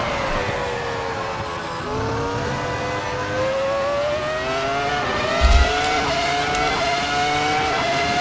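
Ferrari F2004 V10 Formula One car lapping Silverstone in the Assetto Corsa racing game, a loud, continuous high-pitched engine scream with rising revs, a short dip and thump at a gear change, then climbing again.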